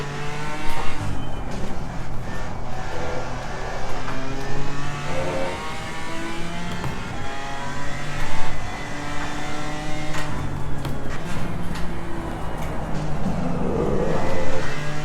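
A BMW M4 GT4 race car in the Assetto Corsa Competizione racing game drones steadily with a torquey engine note, revving through gears with occasional tire squeal, loud and continuous throughout with no talking.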